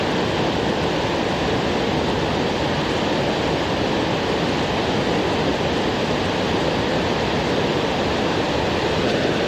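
Fast, churning river water rushes steadily at a trout stream during fly fishing, a dense, loud and unbroken roar that fills the whole stretch with no voices over it.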